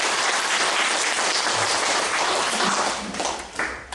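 Church congregation applauding together after thanks for two months of cleanup work, a dense, steady wash of clapping that holds strong and thins toward the end.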